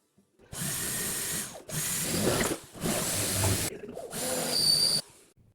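Power drill boring holes into the underside of a VW Transporter van to mount sliding bed rails, in four sustained loud whirring bursts with short pauses between them.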